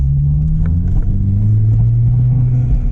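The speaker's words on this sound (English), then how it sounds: "There's like a grinding noise. It almost sounds like a wheel bearing issue, but it's not." An Acura RSX-S with aftermarket motor mounts accelerates, its engine droning loud and close with a low rumbling, grinding undertone that holds steady and rises slightly in pitch.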